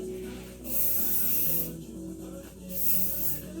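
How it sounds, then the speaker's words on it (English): Two long hissing bursts of hairspray aimed at freshly waved hair, close and loud, each lasting about a second, with a gentle rustle of hair in between. "So I'm gonna hairspray a little bit and then go through and tousle it a little bit."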